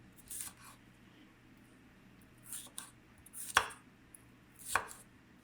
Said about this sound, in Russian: Вычищаю от плодоножки, перегородок, семян и режу достаточно крупно.